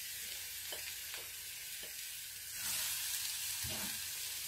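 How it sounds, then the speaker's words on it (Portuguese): Onion frying in olive oil in a small pan, a soft, quiet sizzle that swells into a brighter hiss partway through, with a few faint taps of a utensil. "já vou colocar um pouquinho de azeite. Pra dourar a cebola bem douradinha"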